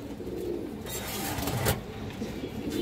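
Pigeons, including a female, coo softly in a loft or pen, a low murmuring burble under faint background noise.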